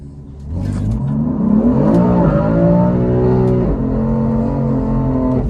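A BMW M3 engine revs hard while accelerating, its pitch climbing through gears in loud, sustained sweeps, heard from inside the car.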